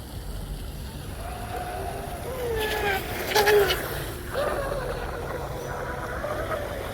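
A vintage Kyosho Dolphin RC tunnel hull boat with an outboard motor runs at a distance, its faint whine rising and falling over a steady wash of wind and water.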